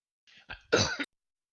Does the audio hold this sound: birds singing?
no